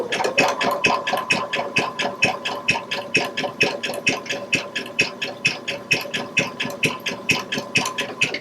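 A Baby Lock sewing machine with a braiding foot stitches through ribbon, a steady rapid mechanical clatter of evenly spaced needle strokes, close and alone for the whole stretch.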